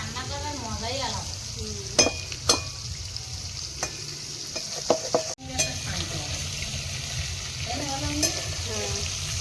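Food cooking in a pan over a wood-fired stove, with a soft continuous sizzle under occasional scraping stirs and clinks of a utensil against the pan, heard close and fairly quiet.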